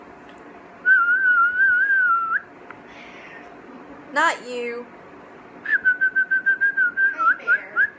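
A person whistles indoors, first one sustained wavering note held for about a second and a half, then a quick run of short rhythmic chirps, with a brief spoken word between.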